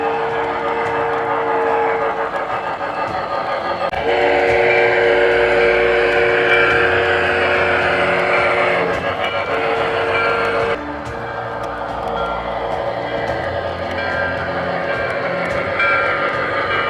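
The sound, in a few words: MTH Premier Erie Triplex model steam locomotive with whistle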